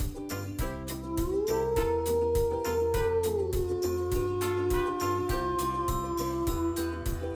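A long, rising then sustained wolf howl glides over a steady rhythmic musical beat, loud and continuous throughout.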